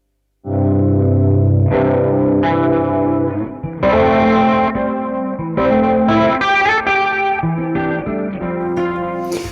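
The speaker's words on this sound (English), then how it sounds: "it's basically emulating a chorus effect" Clean electric guitar through a Line 6 chorus preset with no drive, a shimmering modulated tone over sustained chords and picked notes, loud and close, played alone without any voices.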